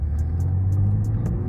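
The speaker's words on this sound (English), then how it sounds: "You can already hear this engine in a sport mode." A BMW 340d M Sport xDrive diesel engine set to sport mode rumbles deep and steady on a private road, with a few faint regular clicks ticking above the continuous low drone.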